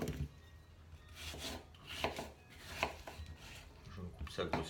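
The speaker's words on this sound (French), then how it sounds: "je me coupe ça grossièrement" Fruit being roughly chopped for a fruit salad, a knife striking a cutting board in a few uneven, moderately loud cuts close by, with light rubbing and scraping between strokes.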